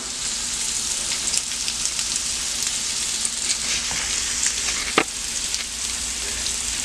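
Spinach tossed into a pan of shrimp and noodles sizzles in a steady, dense hiss close up, with a brief sharp clatter near the end.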